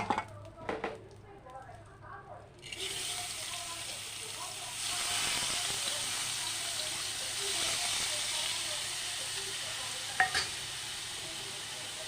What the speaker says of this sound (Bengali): এখন আমি চালগুলি ভেজে নেবো ফ্যাটের চালগুলি